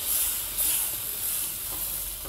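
Adai batter sizzles steadily on a hot dosa griddle, a bright continuous hiss with soft crackles, close up and with no voices.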